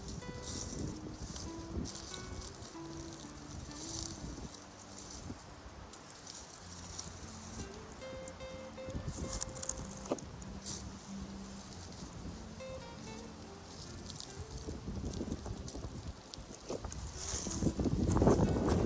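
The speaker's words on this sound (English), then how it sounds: "the wind is blowing and I don't want you to hear all that wind" Wind gusting across an outdoor winter garden, a low steady rush with rustling and rattling, swelling louder toward the end; faint tonal sounds drift in the background.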